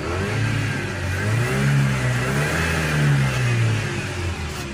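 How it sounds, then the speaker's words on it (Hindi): A car engine revving after its mass air flow sensor was fixed, with a continuous mid-pitched roar that rises and falls through repeated accelerations, loud and close throughout with no one speaking. "गाड़ी को अभी एक्सेलरेट कर रहे हैं"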